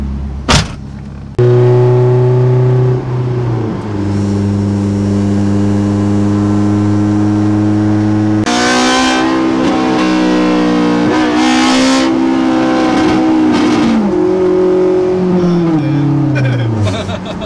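A Honda S2000 engine roars loudly, holding a steady high drone that rises in pitch as it revs, with a louder surge partway through and gear-change dips, heard from close by.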